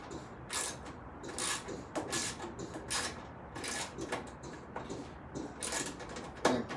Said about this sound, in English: we're going to remove the two screws that hold in the control board. And that's just with your 5/16 socket